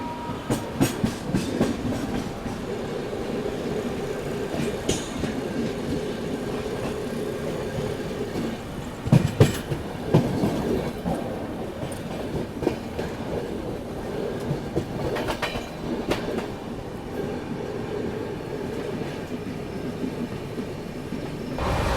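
Vikramshila Express rolling over rails on a line toward Naini and the Yamuna bridge, with a steady loud rumble and clickety-clack of wheels on track joints throughout, plus a few sharper clanks partway through.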